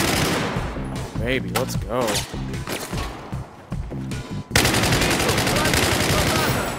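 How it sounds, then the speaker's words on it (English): Gunfire in the video game Battlefield 4: bursts of rapid automatic shots in repeated volleys, then sustained heavy firing near the end, with someone talking briefly over it. "Oh, they're shooting!"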